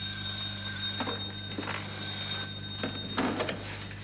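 A telephone rings in repeated short bell bursts, fairly faint and set back in a room, with no talking over it.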